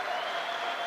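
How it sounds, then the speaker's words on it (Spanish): Dense, even applause from a crowd of men and women at a community workshop on participatory management, sustained clapping without a break. "Yo les pido un aplauso para ustedes"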